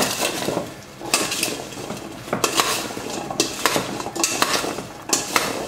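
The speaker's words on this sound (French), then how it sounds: "On va mélanger tout ça" Pork ribs tossed in a Coca-Cola marinade in a dish, with repeated clinks and scrapes of utensils against the container in irregular bursts, close and fairly loud, no talking.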